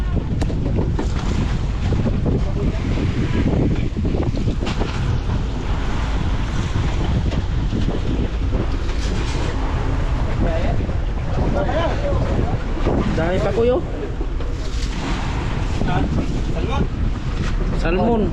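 A fishing boat out at sea off the Philippines, with steady wind buffeting the microphone and waves washing around the hull, continuous and loud throughout.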